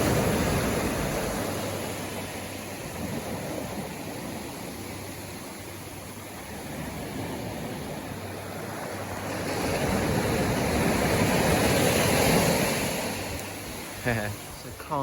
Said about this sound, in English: Just listening to that sea and the motion.